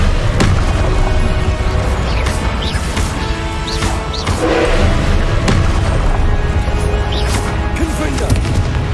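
Confringo blasting-curse explosions from a Hogwarts Legacy boss fight hit as loud, repeated booms and crashes in a constant, dense battle din, with shouted voices mixed in.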